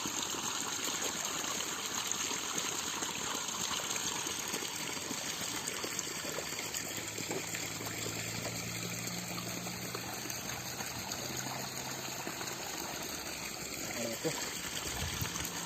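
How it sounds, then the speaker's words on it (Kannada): Water flows steadily into the basin around a coconut tree, a faint continuous gushing trickle that runs throughout with low background hum. "3 ದಿನಕ್ಕೊಂದಿನ ಈ ಥರ ನೀರು ಕಟ್ಟಬೇಕು ಸರ್"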